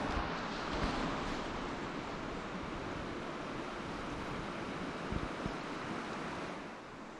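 A creek flows strongly and deeply in the outdoors, making a dense, continuous rushing roar that stays steady and close throughout, mixed with some wind buffeting and no voices.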